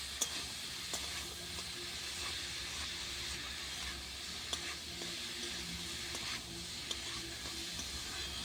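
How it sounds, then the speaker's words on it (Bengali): Spice paste with turmeric, salt and roasted cumin cooks with potatoes in a pan on a clay stove, a soft steady sizzle with a few faint clinks of stirring and no speech. "এটা ভালো করে কষিয়ে নেব।"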